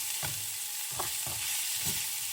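Onion and soaked mung beans are stir-fried in a hot pan over lowered heat, with a steady sizzle broken by several distinct scraping stirs of a utensil.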